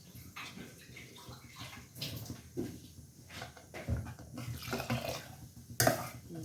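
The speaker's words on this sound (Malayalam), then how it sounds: "കുറച്ച് വെള്ളം ഇറക്കാം." Water splashes and trickles into a metal pot amid clinks of utensils and kitchen clatter, fairly close and moderately loud, with no talking.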